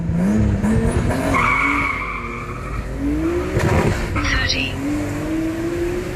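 A drag race car on NT01 tires launches hard, with tire squeal and rising engine revs over a couple of seconds, loud and close, mixed with voices talking.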